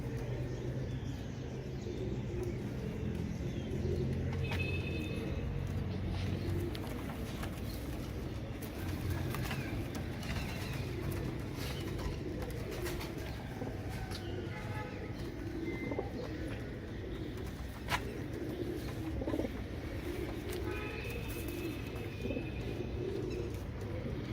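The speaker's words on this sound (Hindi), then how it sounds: "ये दोस्तों सब काट वाले कबूतर हैं माशाल्लाह" Kanto Teddy pigeons coo softly in a loft, low repeated murmuring calls with occasional chirps and wing rustles, fairly quiet, while someone speaks intermittently nearby.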